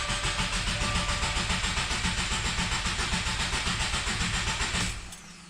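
2020 Subaru WRX engine cranking over after an oil change, the starter whirring in a fast steady pulsing rhythm for about five seconds, close and loud, then cutting off abruptly to a quiet hum.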